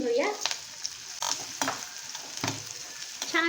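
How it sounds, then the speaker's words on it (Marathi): Mustard seeds, cumin, asafoetida and garlic sizzle and crackle in hot oil for a Marathi dahi kadhi tempering, a loud steady frying hiss broken by sharp pops and stirring scrapes, close up with no talking. "राई ॲड केलेली आहे. मस्टर्ड सीड्स क्रॅकर झाले."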